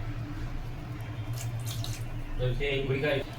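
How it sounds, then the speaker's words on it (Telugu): Turmeric water is poured over idols for a ritual bathing during Ugadi worship, a soft, steady trickle and splash heard close but quiet throughout. "ఫస్ట్ పసుపు వాటర్తో అభిషేకం చేసుకుందాం."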